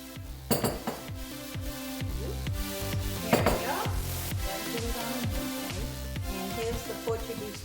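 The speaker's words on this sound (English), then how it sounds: "we will put in the chopped onions" Chopped onions go into a hot pan for a Portuguese linguiça one-pan meal, with clinks and scrapes of a utensil against metal and a soft sizzle, a few sharp knocks standing out early.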